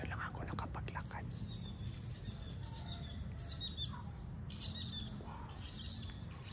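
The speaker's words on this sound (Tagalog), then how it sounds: "Trikaloy na ibon. Trikaloy ang tawag doon." A Trikaloy bird gives short, high chirping calls, faint and somewhat distant, over a steady outdoor background hiss on a sunny walk within view of a mountain.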